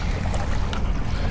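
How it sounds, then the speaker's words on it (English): Steady wash of river waves slapping around a small fishing boat on the Mississippi River, with continuous wind rumble on the microphone and no voices. "here comes some waves"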